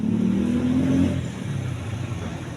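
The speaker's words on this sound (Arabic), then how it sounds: "واش هذا موتور ولا شنو؟" A motor revs after its air filter has been cleaned. The engine sound is close and fairly loud, with a rising tone early on that eases into a steady rumble.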